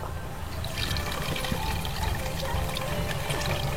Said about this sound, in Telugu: ఇప్పుడు ఈ రసం పోసుకోవాలి